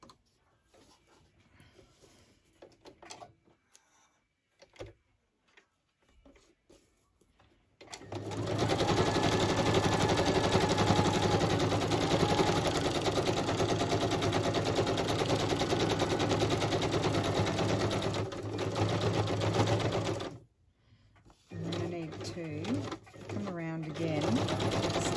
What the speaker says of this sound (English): I'm gonna actually do a straight stitch and I'm just going to whiz around in circles.